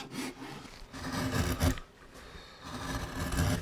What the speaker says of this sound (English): it's going to take quite a bit of work with the gouge.